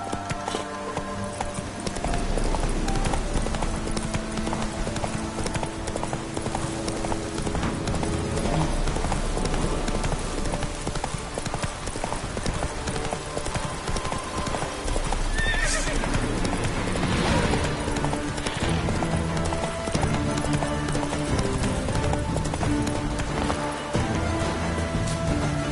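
A horse gallops in The Witcher 3 video game with fast, continuous hoofbeats and a whinny partway through, set against loud game music and ambience.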